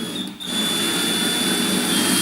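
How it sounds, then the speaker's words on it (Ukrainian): An 8 mm drill bores a through hole in a small wooden drum held in a clamping jig, a steady loud whirring grind that runs continuously after a brief dip at the start. "затискаємо і по наміченому центру свердлом на 8 мм"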